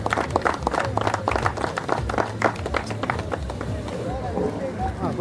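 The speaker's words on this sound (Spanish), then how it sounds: "Fuerte el aplauso." An audience applauds loudly with dense, rapid clapping close by. It thins and fades toward the end as a voice begins to speak over it.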